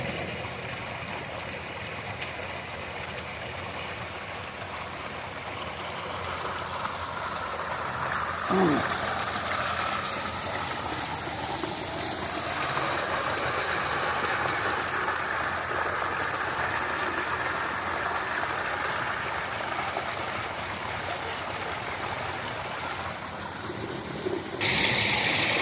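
Steady rushing of water flowing in a canal on a hot, sunny day, a broad continuous wash heard up close with a faint engine hum beneath and a brief knock partway through.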